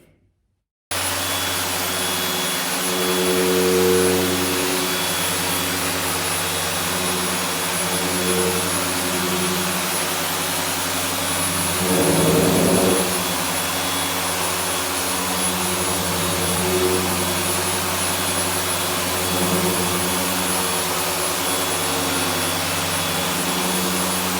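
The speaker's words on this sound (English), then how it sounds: "I actually want to cut to another video showing the polisher in action." A Griot's G9 dual action polisher runs continuously at a steady drone with harmonic hum, briefly swelling in intensity twice as load or speed changes, heard alone without talk.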